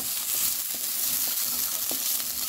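Peas frying in oil in a pan give a steady, close sizzle that hisses evenly throughout, with a few faint crackles and no talking.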